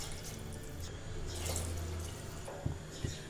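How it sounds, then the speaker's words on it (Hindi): Water pours from a glass into a cooking pot of lentils and potatoes for masoor pulao, a steady splashing trickle ending in a couple of sharp drips and clinks. "अब हम इसमें दो ग्लास पानी डालेंगे।"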